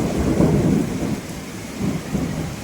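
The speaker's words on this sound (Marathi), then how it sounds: "जोर जोरात आणि मुसळधार पाऊस चालू आहे" Dense, loud May rainfall in Pune with deep rolling thunder swelling and fading beneath the continuous hiss of the downpour.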